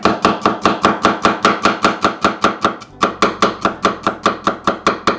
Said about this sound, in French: On épluche l'ail et on l'écrase.